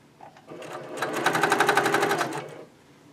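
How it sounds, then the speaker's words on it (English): A sewing machine stitches a quarter-inch seam joining quilt block pieces, one close, steady run of rapid stitching that rises, holds for about two seconds, then stops. "then sewing 1/4-inch seam"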